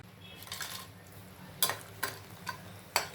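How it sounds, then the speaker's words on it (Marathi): Dried poha mirgunda frying in hot oil, a soft steady sizzle with several sharp crackling pops and clinks spaced through the moment, close and fairly quiet, no voices. "आता मिरगुंड आपण तळून बघूया"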